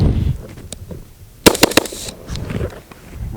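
Gunshots ring out at an outdoor shooting range during a gas mask test, a quick cluster of sharp, loud reports fired close by amid background noise.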